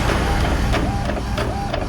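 An Epson L310 inkjet printer runs a plain-paper test print, a loud, close mechanical whirring with rhythmic carriage sweeps and a faint repeating whine.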